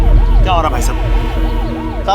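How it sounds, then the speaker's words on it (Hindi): An ambulance siren wails in a traffic jam, close and loud, with steady rising-and-falling cycles repeating over road noise and faint background voices. "देख नहीं रहा एम्बुलेंस फंसी है पीछे"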